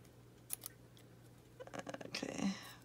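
Paper scissors snip out a piece for a vintage spring junk journal, a few faint, quiet cuts then a denser burst of crisp snipping close by, with soft rustling and a hint of murmured speech.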